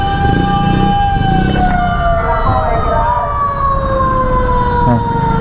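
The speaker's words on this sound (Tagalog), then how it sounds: "Magwangwang na itong bumbero." A fire truck siren wails in steady rising and falling tones over congested street traffic, loud and close, with engine rumble and crowd noise beneath it throughout.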